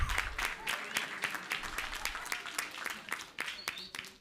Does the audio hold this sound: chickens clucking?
no